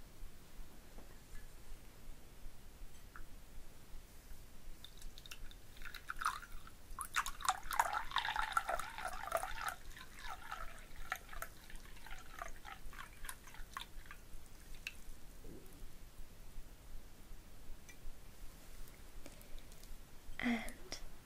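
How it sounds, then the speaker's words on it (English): Tea poured into a cup, a close, gentle trickle of liquid swelling mid-way then fading to soft drips, quiet throughout. "I'll pour you some tea."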